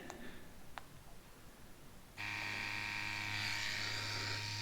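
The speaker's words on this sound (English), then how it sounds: "Now let's run the machine." An Ambition Mars-U adjustable tattoo pen starts up at about 8 volts, with the stroke set to 4.0 for lining. It gives a steady, close electric buzz with a whining tone that runs without a break after a quiet start.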